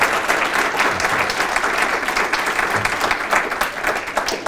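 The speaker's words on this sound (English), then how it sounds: "Round of applause, definitely." An audience gives sustained applause at a principal-of-the-year event, a full crowd clapping steadily for several seconds with a faint murmur underneath.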